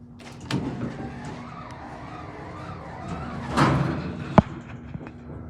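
A glass McNally hydraulic elevator at 505 Pleasant St in Saint Joseph, Michigan, rides with a steady low mechanical hum, broken by a heavier clunk midway and a sharp click near the end.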